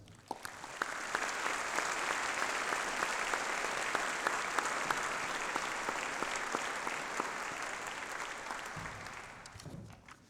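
A graduation ceremony audience at a university applauds the staff with a long, steady round of dense clapping that stays even before tapering off at the end.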